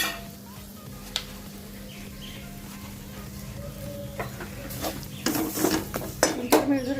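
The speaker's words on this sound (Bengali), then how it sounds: "পাঁচ ছ মিনিট ধরে আস্তে আস্তে নেড়ে চেড়ে পুরটাকে ঠিক বানিয়ে নিতে হবে" Lentil filling for dal puri is stirred in a pan, with spoon-on-metal scrapes and clinks growing busier and louder toward the end over a steady kitchen hum.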